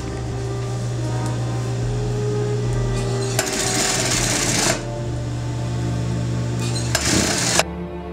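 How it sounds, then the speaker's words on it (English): A seamstress's sewing machine top stitching a garment alteration, running in two steady bursts of close, continuous mechanical whirring with a constant low hum in between and no talk. "I have to top stitch and that's it."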